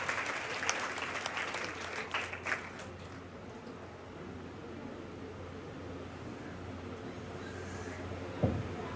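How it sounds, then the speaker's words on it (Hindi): Loud, dense applause from an audience at a Bihar Police constable final-selection felicitation ceremony, sustained clapping for the full stretch with a slightly stronger burst early on and a brief knock near the end. "शशि सर, जोरदार तालियों से स्वागत है सबका"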